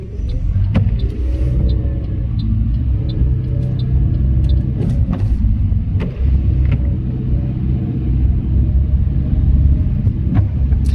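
An automatic car pulls away on a Greenham test route, a steady loud low engine rumble and road noise from inside the cabin, with a few faint clicks and ticks over it and no talking.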